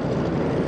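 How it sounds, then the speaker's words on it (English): Helicopters flying overhead in an action thriller film make a loud, steady rotor and engine roar through the whole brief moment, with no voices. "Helicopters!"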